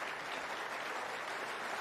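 A snooker crowd at the World Snooker Championship final cheers and applauds after Luca Brecel pots a red, a dense, steady burst of clapping and cheering with no pauses.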